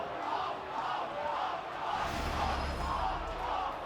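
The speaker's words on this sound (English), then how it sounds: "Well, the crowd is ruthless" A rugby league stadium crowd at an NRL match between Cronulla-Sutherland Sharks and South Sydney Rabbitohs roars and jeers in broad swelling waves, loud and continuous, with a sustained surge building midway.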